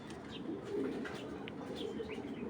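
Racing pigeons coo softly in a loft, low murmuring calls repeating over a quiet background.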